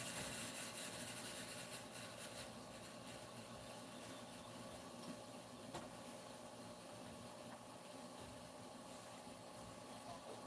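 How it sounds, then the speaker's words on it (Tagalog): A loud, noisy motor runs steadily with a constant hiss and drone, holding at an even level throughout with no talk over it. "Maingay ang motor"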